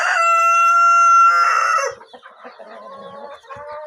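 An adult Brahma rooster crows loud and close in one long drawn-out call, followed by softer clucking and farmyard bird sounds.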